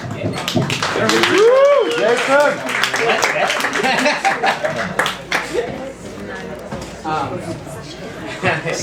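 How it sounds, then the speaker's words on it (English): Audience clapping for a performer at a live show, scattered claps under loud crowd chatter, laughter and speaking voices, uneven and fairly close. "Let's have a big round of applause for Jason Trachtenberg."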